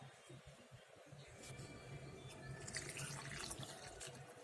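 Water is poured into a bowl of cornflour and stirred, giving faint splashing and liquid swirling that grows busier and brighter toward the end, with quiet kitchen clatter underneath.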